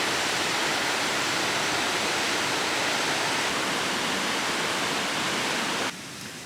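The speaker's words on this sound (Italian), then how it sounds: "Siamo arrivati davanti a questa stupenda cascata" Steady, loud roar of a waterfall in the Dolomiti Feltrine, a dense broadband rush of falling water filling the whole clip with no voices, dipping slightly just before the end.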